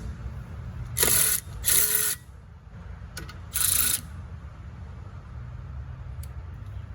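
A Snap-on Brute cordless ratchet breaks a fastener loose in three short, loud motor bursts, each about half a second long, with faint clicks between them and quiet afterward.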